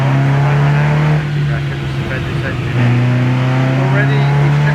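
Mk1 Ford Escort engine revving hard on a rolling road dyno, a loud sustained drone that dips briefly then climbs again, with a voice talking over it.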